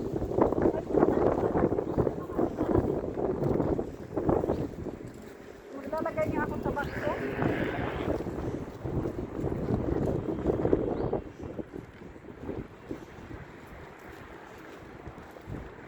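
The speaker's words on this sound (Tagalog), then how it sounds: "Mahangin." Steady wind buffets the microphone in low rumbling gusts outdoors in Jordan while a person talks over it throughout.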